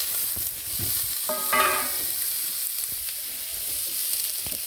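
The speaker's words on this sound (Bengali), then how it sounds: "আলুগুলো একটু ভাজুমো" Potatoes frying in a pan, a steady close sizzle with brief stirring clinks and a short tonal squeak partway through, no speech.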